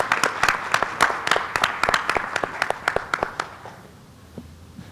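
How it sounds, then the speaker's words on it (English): A smaller audience at a conference closing ceremony gives a round of applause, distinct individual claps close and crisp at first, thinning out and fading to a few stray claps by the end. "let's just applaud her tremendous work"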